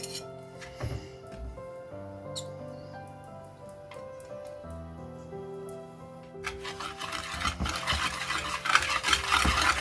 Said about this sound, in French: je mélange les œufs au sucre